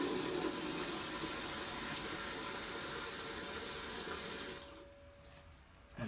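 Tap water pours steadily into a plastic bucket with drain holes being filled for a mosquito trap, a continuous loud gushing rush that stops abruptly near the end, leaving quiet room tone.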